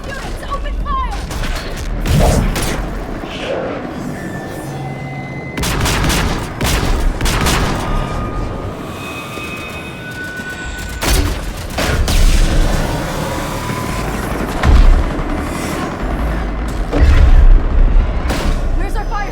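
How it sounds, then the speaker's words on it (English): Gunfire and heavy booms from the video game Mass Effect 3, with repeated loud blasts and bursts of fire throughout, mixed with shouted voices and battle chatter. "All units, open fire!"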